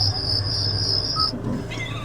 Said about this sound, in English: crickets, you know,